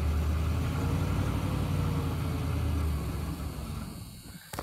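A Ford LTD's engine idles steadily with a deep, rumbling low throb that holds for about three seconds, then fades and softens toward the end, heard up close with no talking.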